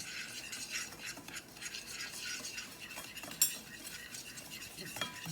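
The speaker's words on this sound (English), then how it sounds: "Take 1 cup of sugar, and here we will whisk this well." Sugar being whisked into a creamy mixture for nankhatai, a steady scraping stir of utensil against bowl running the whole time with small clinks, one sharper knock partway through, close and moderately quiet, no voices.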